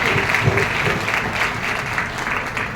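An audience at a Hindi-language talk applauds, a moderately loud, continuous patter of clapping with faint crowd murmur mixed in.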